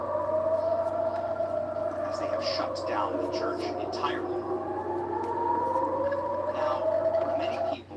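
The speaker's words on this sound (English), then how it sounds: "Here you can hear the sirens wailing inside of the Church of the Holy Sepulchre." Air raid sirens wail through the Church of the Holy Sepulchre as a steady, rising and falling tone, with someone talking over it throughout.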